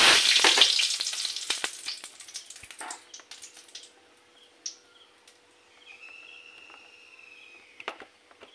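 Okra pieces sizzle loudly in a pan of oil while cooking a curry. The frying crackles strongly for a few seconds and then drops to a faint simmer, with light bird chirps in the background.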